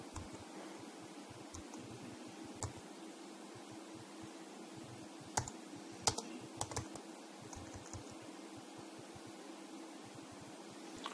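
Typing on a computer keyboard while working in an Excel spreadsheet, a quiet, steady patter of key clicks over a faint fan hum, with a few louder taps, no talking.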